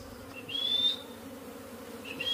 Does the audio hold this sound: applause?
no